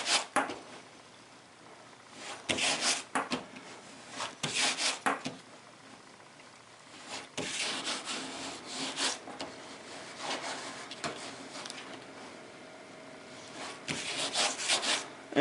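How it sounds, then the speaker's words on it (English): Bondo body filler being shaped with a grater during minor car body work, producing rough rasping strokes in irregular bursts with short pauses between passes, close and loud, with no voices. "And you can see that I have not touched that spot there yet with the grater."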